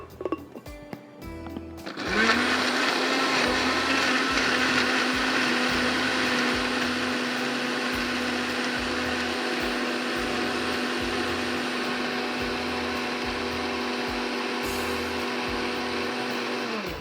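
Electric grinder whirs loudly and steadily for about fifteen seconds as it grinds whole coriander seeds, cumin and black peppercorns, starting abruptly after a short quiet moment and running at a constant high pitch.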